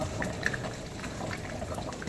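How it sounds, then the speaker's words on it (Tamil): Continuous bubbling and simmering of crab curry in a pot, with small pops scattered through a dense, steady wash of liquid noise. "நண்டு நல்லா 10 நிமிஷம் கொதிச்சு ரெடி ஆயிடுச்சு"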